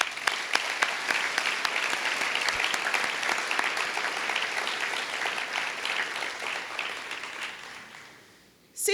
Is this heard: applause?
yes